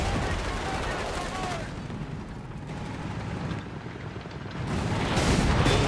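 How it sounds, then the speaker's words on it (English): Gunfire from American anti-tank guns in a video game, heavy rapid booming shots filling the scene continuously, loud and dense, with a voice talking over part of it. "Ooh, big hits, American anti-tank guns."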